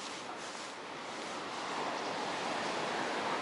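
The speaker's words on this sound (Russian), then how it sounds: "слышно шум волн, да прям, знаете, такой накатывающий" Rolling sea waves wash against a winter embankment in Sudak, Crimea, a steady broadband surf that swells slightly louder toward the end, with no voices.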